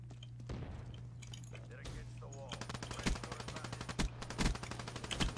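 Gunfire crackles in a Black Ops 3 multiplayer match, building into rapid automatic bursts over a steady low game hum and background music.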